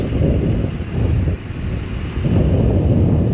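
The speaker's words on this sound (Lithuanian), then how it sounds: "Lemba, vėjas koks." Strong wind roars and buffets the microphone outdoors in Norway, a heavy, continuous low rush that swells and eases in gusts, with no voices.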